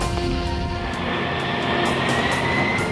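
A C-17 military transport jet taking off at Charleston, a steady loud broadband engine roar with a sustained high whine, holding constant without voices.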